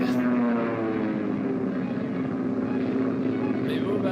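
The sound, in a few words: propeller airplane flying low in a classic horror movie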